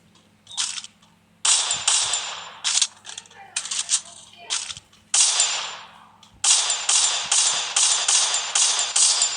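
Bursts of gunfire in the mobile shooter Free Fire during a long-range firefight, loud rapid volleys of shots in several clusters, ending in a sustained string of fire.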